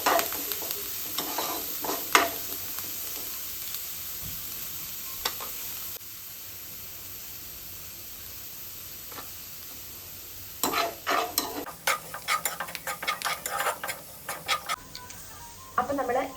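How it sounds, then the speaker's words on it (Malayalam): Sliced onion and curry leaves sizzle and get stirred in hot frying oil, a steady hiss with intermittent scraping stir strokes, quieter in the middle and busier near the end. "അപ്പോൾ നമ്മൾ എണ്ണയിൽ സവാള, കറിവേപ്പില ഇട്ടു."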